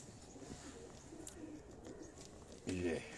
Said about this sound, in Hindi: ये सलारे टेडी कबूतर हैं दोस्तों।